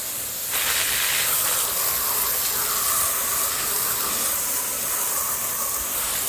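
Garden hose spraying water over a car engine bay during a touchless wash, a continuous loud hissing rush that starts abruptly and holds steady, no voices.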